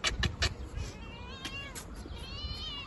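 A golden cat meows at a Hindu temple in Dibrugarh, Assam, giving several drawn-out, fairly faint cries at uneven intervals after a few soft knocks and background rustle.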